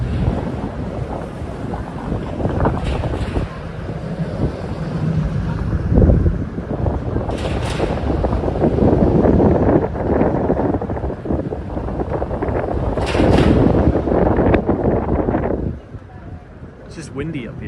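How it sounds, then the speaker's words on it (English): Gusts of wind buffet the microphone at a high outdoor viewpoint in Miami, Florida, producing a low, rumbling roar that swells and eases, then drops off near the end. "windy up here."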